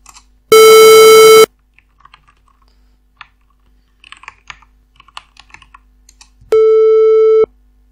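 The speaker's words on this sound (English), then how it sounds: "square wave" Two loud, steady synthesized square wave tones with rich harmonics, the first nearly a second long, the second after a pause of faint tapping, clicking sounds.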